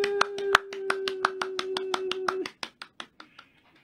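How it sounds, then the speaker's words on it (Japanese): A quick burst of hand clapping opens a live Japanese travel broadcast from Kyoto, a dozen or so sharp claps in a steady run over a sustained tone, then thinning into a few fading claps. "拍手。"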